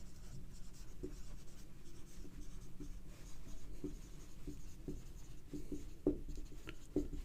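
Marker or chalk writing on a board during a chemistry lesson on hydrogen, faint scattered taps and short strokes in irregular rhythm over quiet room noise, with no talk.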